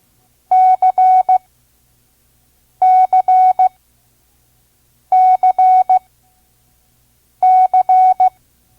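Four crisp repetitions of the Morse letter C, dah-dit-dah-dit, sounded as a single clean tone at a slow 5 words per minute for a vintage ARRL lesson, separated by silent gaps, with no voice.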